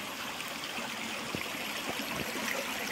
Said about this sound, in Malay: Ni sungai ni dah.